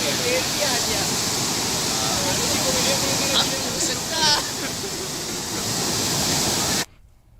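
Powerful floodwater rushes in a strong current, a loud continuous roar that fills the scene with a faint voice or two beneath it before it cuts off abruptly.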